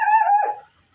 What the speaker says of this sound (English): I made the dog bark.